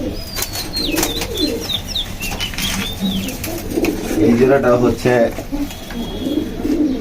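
Pigeons coo and flap their wings nearby, with a few sharp chirps and a burst of wingbeats midway, while someone talks over them throughout.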